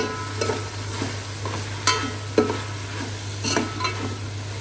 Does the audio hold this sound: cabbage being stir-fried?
yes